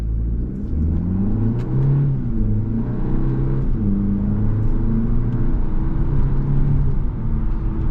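A 2024 Hyundai Elantra N-Line with a new engine and a 7-speed dual-clutch accelerates using paddle shifts, a steady in-cabin engine hum rising in pitch and dropping at each early upshift, repeated several times.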